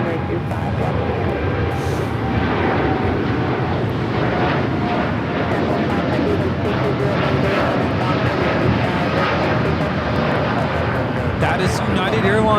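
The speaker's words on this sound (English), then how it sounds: "That is United Airlines 1855 taking off to Newark on the 787-9 Dreamliner" A United Airlines Boeing 787-9 Dreamliner taking off from Los Angeles International Airport, a loud continuous engine roar with a crackling edge, with voices talking over it.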